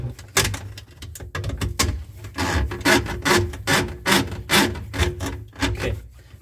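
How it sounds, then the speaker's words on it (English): A drain auger cable is fed by hand into a clogged sink drain, giving repeated rasping, scraping strokes in a steady rhythm over a low background hum, close by. "now we're gonna run this auger inside, and I'll just feed it in"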